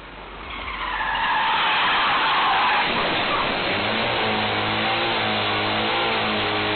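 A car brakes hard and skids on a road after a truck overturns ahead, a long loud tire screech and rushing roar that builds and holds, then gives way to a steady engine hum.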